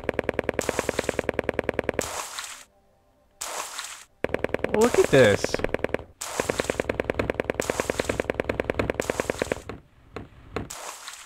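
Rapid, heavy banging pounds on a door in the PS1 video game LSD Dream Emulator, loud bursts of quick repeated knocks separated by short silences, with a voice speaking briefly.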